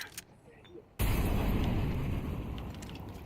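In a video game, an incendiary grenade bursts into a sudden loud whooshing roar of flame after a second of near quiet. The fire keeps roaring and slowly fades.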